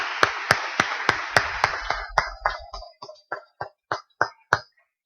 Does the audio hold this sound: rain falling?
no